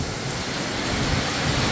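A strong storm of wind-driven, swirling rain roars steadily as a dense, loud wash of noise with no pauses.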